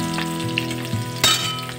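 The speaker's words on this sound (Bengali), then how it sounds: "পেঁয়াজগুলো একটু নেড়ে চেড়ে ভেজে নেব" Two onions sizzle steadily in hot oil in a pan where butter was fried first, stirred now and then, with a brief louder burst of sizzling midway through; close and continuous, with no talking.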